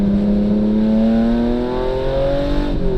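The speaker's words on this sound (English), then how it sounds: "So you give it a little bit of gas when you change gears." An old car with a dogleg gearbox revs its engine through a gear change, the pitch climbing smoothly and steadily, loud and close, with no talking.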